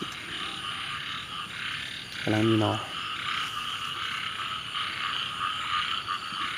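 Frogs croak in a garden beside a dug ditch: one nearby frog gives a short, rapid, pulsing call over a steady insect drone, and someone talks quietly nearby.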